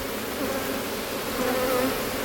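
Dense buzzing of many honey bees swarming close around a hive, a steady droning hum that rises and falls slightly.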